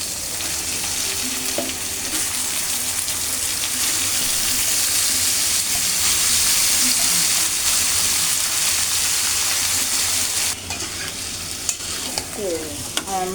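Marinated chicken pieces frying in browned spice paste in a pan, a loud continuous sizzle with stirring scrapes throughout, close by, a few utensil clinks near the end, no talk.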